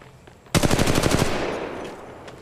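Rapid automatic gunfire in Apex Legends Mobile, a sharp burst of closely spaced shots lasting under a second, loud and near, then a decaying echo tail.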